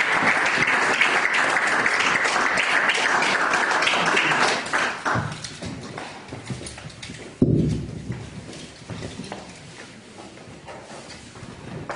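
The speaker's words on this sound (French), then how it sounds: "Nous acclamons très fort le Seigneur." Applause from a church retreat congregation acclaiming the Lord, loud and dense for about five seconds, then fading to lighter, scattered clapping with a brief renewed burst before trailing off.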